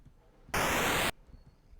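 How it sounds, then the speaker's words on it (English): An 8-bit chiptune explosion built from raw noise with no attack, a single loud burst lasting about half a second that cuts off abruptly, alone against faint background hiss. "This sounds okay for an 8-bit explosion."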